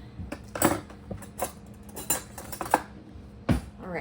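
A fork and other metal utensils clink and scrape against a bowl while sourdough starter is mixed with flour: several sharp, close taps spread across the clip, standing alone without talk.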